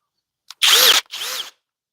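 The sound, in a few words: Flex FX1371 impact driver running at speed 3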